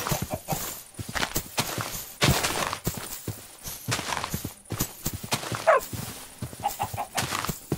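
Minecraft chickens cluck in a busy game scene, short clucks scattered among rapid footstep-like clicks and digging thuds, with one brief squawk near the end.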